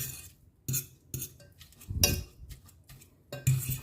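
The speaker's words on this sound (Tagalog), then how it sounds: "Mash and mash and mash." A utensil mashes green peas in a bowl: irregular clinks and scrapes of metal against the dish come close and fairly quiet, with short pauses between strokes.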